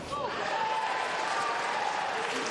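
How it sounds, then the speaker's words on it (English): A boxing crowd applauds a right hand during a fight, steady clapping and crowd noise throughout, with a voice talking over it. "The crowd applaud that right hand from Pryce."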